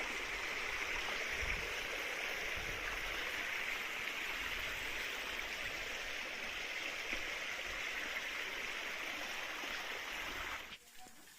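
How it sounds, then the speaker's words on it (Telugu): A waterfall comes down between hills near a forest temple, a steady, dense rushing roar that continues unbroken and evenly loud, then cuts off abruptly near the end. "ఈ వాటర్ ఫాల్స్ చూడండి కొండల మధ్యలోంచి వస్తున్నాయి నీళ్ళన్నీ"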